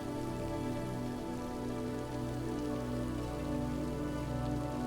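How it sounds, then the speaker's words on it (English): Steady rain falls in a scene from the game The Decayed, a dense, even wash of patter that continues without a break at a moderate level, with no voices over it. "The duo watch the rain for a moment together."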